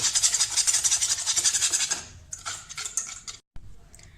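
Ingredients for walnut chocolate brownie batter are stirred in a bowl after an egg goes in, giving a steady rhythmic scraping and clinking of a utensil against the bowl, close and fairly loud, easing into lighter, broken strokes.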